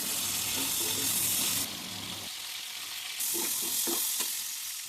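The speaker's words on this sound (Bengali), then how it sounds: "প্রথমে কড়াই তেল দিয়ে পটলটাকে ভালো করে নুন হলুদ দিয়ে ভেজে নেবো।" Pointed gourd frying in oil with salt and turmeric in a wok, a continuous sizzling hiss that dips and rises, with a few soft stirring scrapes near the end.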